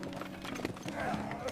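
Horse hooves clip-clop as a cart is drawn along, used for hauling firewood from forest to castle; the rhythmic steps sit under continuous narration throughout.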